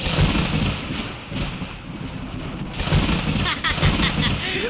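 Deep rumbling thunder rolls in low, heavy swells with a few sharper cracks, loud and close, rising and falling over several seconds.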